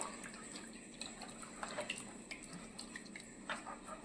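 Water running and splashing as a mixer grinder jar is rinsed in a kitchen, a continuous faint trickle with small sloshes and drips, distant and low in level.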